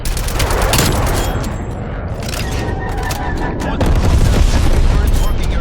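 Napalm strike and gunfire in Black Ops Cold War free-for-all: dense rolling booms and crackling fusillade fill the scene, with a radio voice announcing over the loud, continuous explosions.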